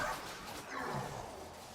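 A dog named Max lets out a short bark and yip at close range, a quick burst lasting under two seconds with no talk over it.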